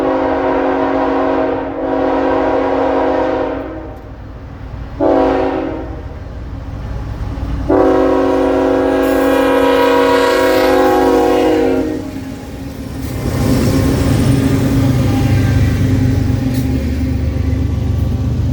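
Norfolk Southern freight train NS-283 with BNSF locomotives blasts its horn in several long, loud chord bursts at a road crossing in Georgia, then the rumble of rolling railcars builds as it passes close by.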